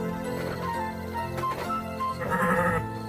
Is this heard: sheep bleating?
yes